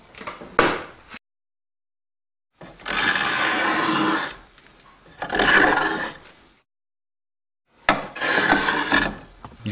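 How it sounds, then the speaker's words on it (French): A wooden clog's exterior is shaped with a paroir, a large hinged carving blade. It makes three rasping, scraping strokes of a few seconds each, separated by silence, with no talk. "L'extérieur du sabot est travaillé au parroir."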